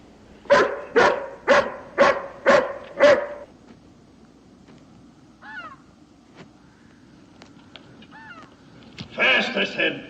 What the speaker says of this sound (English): Can't you temper this hound some?